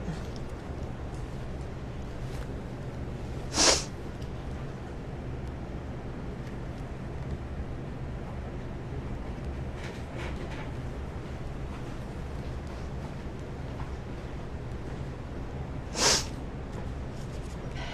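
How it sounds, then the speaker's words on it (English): Two short, sharp sniffs stand out, spaced well apart, against a steady background rumble with no talking. "Maybe I'll quit sniffling."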